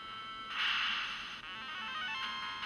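Thin, tinny Final Fantasy game melody plays softly from a Wonderswan Color handheld's small speaker, bright and buzzy with a slightly wavering tone.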